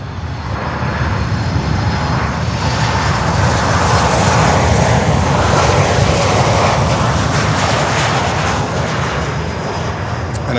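A Southwest Airlines airliner at Miami airport roars past with loud, continuous jet engine noise, a broad rumbling rush that swells in the middle and holds strong for about ten seconds, with no voices.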